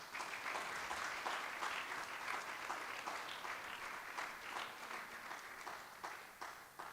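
Congregation in church breaking into sustained applause, a thick steady roar of many hands clapping with slight surges and no words spoken.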